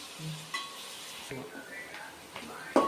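Onions frying in oil with garam masala while being stirred, a steady soft sizzle with a few scraping and clinking utensil knocks against the pan, the loudest near the end.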